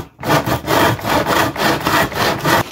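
A clamp-mountable hand saw cuts through a stack of seven pieces at once, giving loud, rhythmic back-and-forth rasping strokes, about six in quick succession, close up with no talking.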